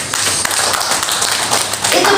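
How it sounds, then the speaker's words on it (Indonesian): A church congregation clapping during a praise and worship service, a steady dense patter of many hands throughout the short moment, fairly loud and close. "Tepuk tangan buat Tuhan Yesus."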